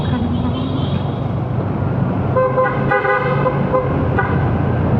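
A car horn sounds several short honks in the middle of the clip over road and engine noise on a drive out of Manila, with people talking nearby.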